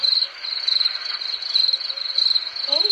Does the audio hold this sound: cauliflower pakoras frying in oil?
no